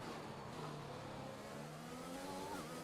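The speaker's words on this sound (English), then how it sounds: "The Mercedes engine sounds so different. Like under braking and the downshifts are so much harsher with this engine" A Mercedes-powered Formula 1 car in the racing game F1 2021 drops through the gears under braking, its engine note stepping and falling in a harsh, steady, continuous drone.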